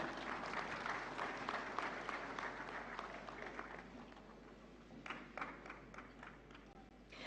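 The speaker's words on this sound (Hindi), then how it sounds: "जोरदार तालियां।" Loud, sustained audience applause fills a national film award ceremony hall as an honoree accepts an award, a dense wash of many hands clapping steadily before thinning slightly and swelling again.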